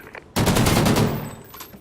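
A sudden, dense burst of rapid video game gunfire starts loud and close, then tails off over about a second into a fading rumble.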